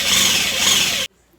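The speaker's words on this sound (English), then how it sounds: "Kind of just letting the weight of the drill do it for me." A power drill bores steadily into a workpiece under light pressure, a loud continuous whirring grind close by that cuts off abruptly, leaving near silence.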